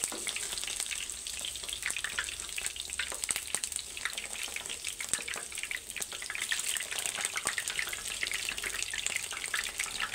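Eggplant frying in a pan of hot oil, a steady crackling sizzle with bursts of popping that continues evenly and fairly faint throughout, with no talking.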